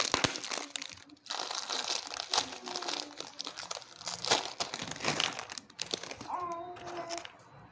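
Snack packets crinkle and tear loudly up close in repeated bursts as a carton of snack bags is opened one after another, with a voice murmuring underneath.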